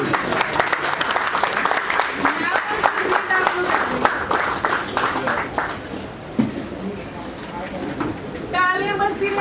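Clapping bursts out repeatedly at a retirement ceremony for a Punjab National Bank chief manager, a roomful of hands applauding in waves while people talk over and between the rounds.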